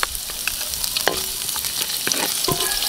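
Golden-browned garlic and then onion sautéing in a pan, a loud continuous sizzle broken by sharp spatula scrapes and stirring clicks, close by and with no voices.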